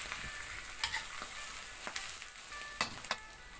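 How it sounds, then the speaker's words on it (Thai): Quiet frying sizzle as red ant eggs fry with egg, with scattered sharp pops and crackles at irregular moments, close but soft, no voices. "ตอนนี้เสียงไข่มดแดงกระแตกป้อแปะป้อแป๊ะ"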